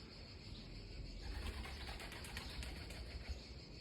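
Pigeons close by outdoors, with wings flapping and soft cooing over a steady wash of background noise, no talking.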